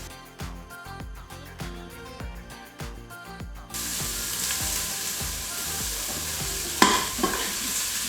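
Spoon stirring mung beans and oats into a frying mixture of onion, ginger and garlic, first as clustered scraping strokes, then a steady loud sizzle with a sharp clank near the end.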